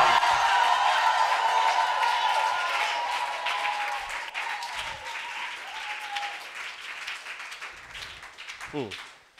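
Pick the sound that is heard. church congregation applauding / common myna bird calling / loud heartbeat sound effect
church congregation applauding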